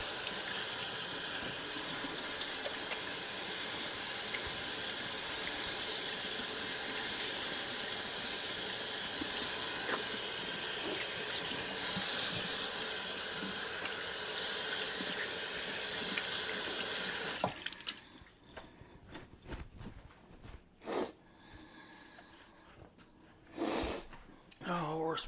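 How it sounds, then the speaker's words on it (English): Running hot tap water pours steadily into a sink as greasy hands are washed with soap for most of the clip, then cuts off, leaving a few scattered clicks and thuds. Speech is heard faintly nearby. "I'm using hot water and soap to clean my hands because of the grease."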